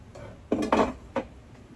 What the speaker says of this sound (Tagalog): And then, ating i-rice cooker.